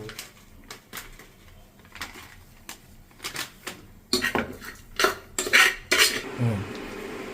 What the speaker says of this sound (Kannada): ಸೊ ಅನ್ನ ಹಾಕಿ ಮಿಕ್ಸ್ ಮಾಡ್ಕೊಳ್ಳಿ